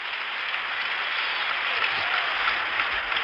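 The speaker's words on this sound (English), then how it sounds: "this crowd figures they go in action, and they're rooting already" A 1975 World Series baseball stadium crowd cheers and roars in anticipation before the first pitch, a loud, sustained wash of applause and crowd noise filling the whole stretch.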